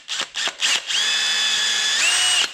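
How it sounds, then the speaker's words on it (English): A few short clicks and handling noises, then a power drill whines steadily for over a second into plastic on a Ford Fiesta front door, rising in pitch near the end. "I'm just gonna drill a small little hole there"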